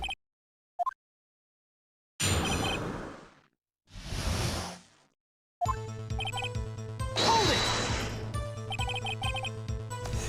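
A glass light stand falls over in the Phoenix Wright: Ace Attorney video game: a couple of whooshing swells, then a crashing, tinkling burst of glass over game music, loud and alone.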